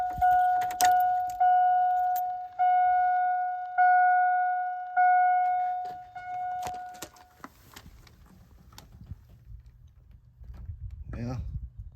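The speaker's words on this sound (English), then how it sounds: "put the key in" Keys jangle in the ignition of a 2000 GMC 1500 short-bed pickup, with a repeating key-in warning chime of about six evenly spaced tones, then a soft rustle and low hum as the chiming stops.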